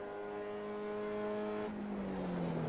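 A race car lapping Barber Motorsports Park sounds as a steady engine drone, its pitch holding and then dropping as it brakes for a turn, heard through an onboard-style mix.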